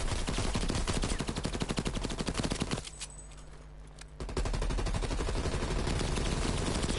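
Sustained automatic gunfire from a Call of Duty Cold War weapon fired into the air, loud and continuous, breaking off for about a second before resuming at full intensity.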